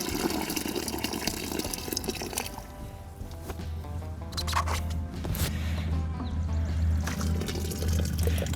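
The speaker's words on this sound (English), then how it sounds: "Dump everything in the bucket and then pour it back in the pot." Walnut dye liquid is poured between a bucket and a pot, with close, sloshing splashes and a gurgling stream that rises and falls across several seconds, with no talking.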